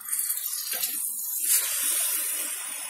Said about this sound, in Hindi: तो अब हम इसमें टमाटर का पेस्ट डाल देंगे और इसे भी मीडियम फ्लेम पर भूनना है।